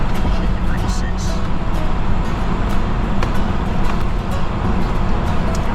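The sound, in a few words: tires singing on road, aired down to 20 psi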